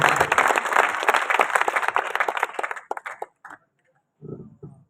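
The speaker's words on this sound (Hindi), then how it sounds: "मैं चाहता हूं कि एक बार पूरा सदन जोरदार तालियों से उनका अभिनंदन करें।" Audience applauding at a Hindi poetry gathering (kavi sammelan), a dense burst of crowd clapping that fades out after about three seconds, followed by a few scattered claps.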